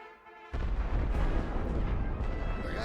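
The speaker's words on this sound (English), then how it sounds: "so I'm going to start just peppering them with artillery" Artillery fire in the World War One strategy game The Great War: Western Front: a sudden heavy barrage of booming blasts kicks in after a brief lull, then keeps up as a dense, loud, continuous rumble of shell bursts.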